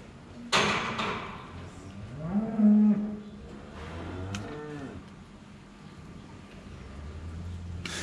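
A cow with an abscess in the white line moos during hoof trimming, a deep drawn-out low call followed by a second weaker moo, with clanking of the trimming crate around it.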